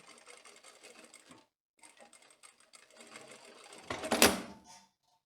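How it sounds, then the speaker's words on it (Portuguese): A sewing machine stitching a tailored skirt, running in short bursts with a brief pause, then a louder close whir near the end, with no talk over it. "você vai vir com a costura, arrematando no início"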